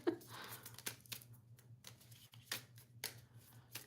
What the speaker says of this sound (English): these are so cute, but they're so tiny to shuffle